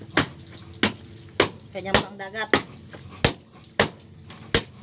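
Wet clothes are beaten with a wooden stick during hand-washing, giving about nine sharp, evenly spaced thwacks. A voice briefly speaks between the strikes.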